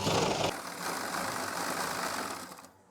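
A sewing machine stitches elastic into a pair of pants, giving a steady close motor whir with a louder burst at the start that fades out near the end, with no voices.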